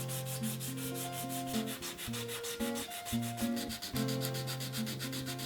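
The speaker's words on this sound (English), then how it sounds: "I'm sanding with a 120 grit sandpaper" A bass guitar headstock's lacquer is sanded by hand with 120 grit sandpaper, giving a close, quiet, rhythmic scrape of quick back-and-forth strokes with no speech.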